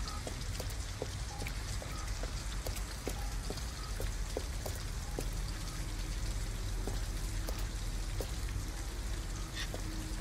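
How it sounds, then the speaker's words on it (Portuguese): Steady rain falls outdoors at night in the video game Detroit: Become Human, a dense, even hiss with scattered sharper drips and patters continuing throughout, with no talking. "Pelo menos a gente sai da chuva."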